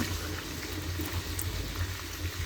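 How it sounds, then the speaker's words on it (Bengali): About a cup of oil and some ghee go into a pan for a chicken roast, giving a steady soft pouring and bubbling hiss with a low liquid rumble, continuous and fairly quiet. "এখানে 1 কাপের মতো তেল দেবো, ঘি দিয়ে দিলাম"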